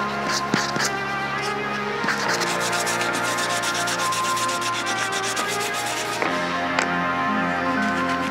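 Steady scratchy rubbing of sandpaper on scrap-wood joinery, continuous strokes up close with a few brief pauses and shifts in pressure.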